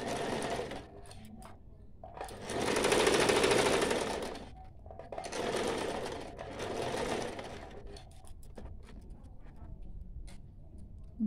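Sewing machine stitching a small cloth face mask, running in two sustained bursts of rapid mechanical whirring with a pause between, fairly close and clear, no talking over it.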